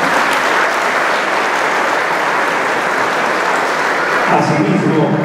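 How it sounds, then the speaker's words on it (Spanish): A large audience at a municipal government report event gives strong, sustained applause to welcome town council members, with the clapping loud and continuous throughout and a voice speaking over it near the end. "Recibimos a los miembros del honorable ayuntamiento con un fuerte aplauso"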